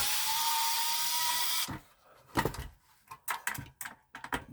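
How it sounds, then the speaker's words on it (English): A power screwdriver whirs steadily to back screws out of the heat sink of a Sony PS3 Slim 2001A console, then stops, followed by close, sharp clicks and small metallic handling taps, with no talk. "Pull those screws off of this."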